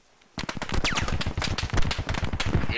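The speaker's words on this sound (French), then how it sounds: "Il y a une batteuse là." A machine gun fires in the military shooter game Squad, a long rapid burst of close, loud shots with a steady rhythm that continues almost without a break after a short silence.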